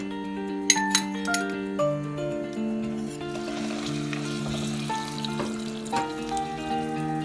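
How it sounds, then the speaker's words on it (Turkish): Butter added to hot oil in a rice pot sizzles softly, with clinks of glass or metal and a few stirring knocks, while a sustained musical tone plays in the background. "Sonra tereyağımı ilave ediyorum."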